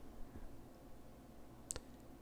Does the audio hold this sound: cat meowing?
no